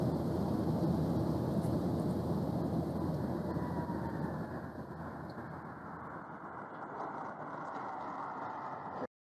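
Steady broad roar of an airplane flying, gradually easing and thinning toward the end as it transitions to landing, loud and continuous before cutting off abruptly to silence, with no voices.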